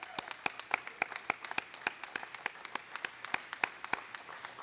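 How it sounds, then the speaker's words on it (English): A crowd at an outdoor groundbreaking for a new market claps in sharp, scattered bursts, a thin round of applause with no voices over it. "Can we give them a round of applause?"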